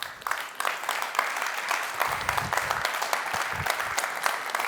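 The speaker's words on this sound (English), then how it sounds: "Ladies and gentlemen, give him a big round of applause, of course." Conference audience at a military medicine centennial talk applauding a colonel after his presentation, sustained full-room clapping at an even level throughout.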